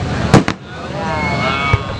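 Fourth of July fireworks burst in sharp, loud bangs: two close together, then a third a moment later, over a low rumbling background.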